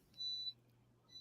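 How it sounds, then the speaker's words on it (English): An incubator gives off an electronic beep: one steady high tone of about a third of a second, then the start of a second beep, with a low hum underneath and no talking. "beeping in the background, it's my Incubator."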